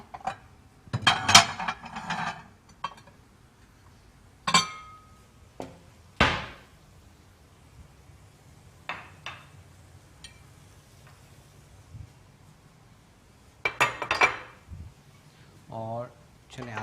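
Clinks and knocks of dishes and a serving spoon while potato curry, Rajasthani aloo masala with boiled potatoes, is dished out into a white plate in a kitchen, sharp scattered clatters between stretches of near silence.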